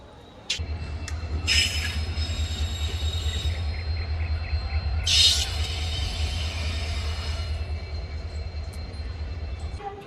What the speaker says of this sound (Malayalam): ഇവിടെ നിൽക്കുന്ന വണ്ടി ചെമ്മൊഴി എക്സ്പ്രസിന്റെ റൈക്കാണേ